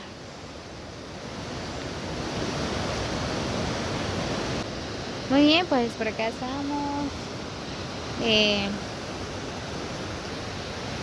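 The Santa Elena river rushes steadily in a broad, constant wash of water noise, heard from a bridge, with a voice speaking briefly over it.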